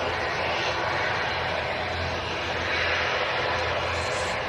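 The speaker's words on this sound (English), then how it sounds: "The Emirates is still on the move." Emirates airliner taxiing at Manchester Airport after landing, a steady close engine roar with a low rumble that holds evenly throughout, no voices.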